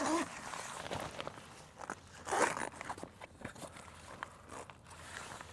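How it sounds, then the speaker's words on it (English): A fabric ensuite wall on a camper trailer is zipped across, a run of short scratchy zipper rasps and rustling close by, with light handling noise in between. "And we'll zip it across."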